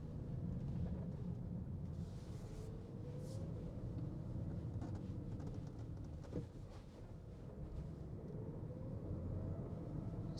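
A 2026 all-new Audi A6 cruising in comfort mode, with a steady low engine and road rumble from the cabin that holds an even level throughout, faint whines rising now and then, and no talking.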